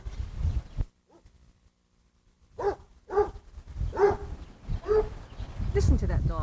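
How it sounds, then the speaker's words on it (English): A dog barks outside a house on an overcast day: a run of about four separate barks at a moderate distance, with a person talking over and around them. "You can hear that stupid dog in the background."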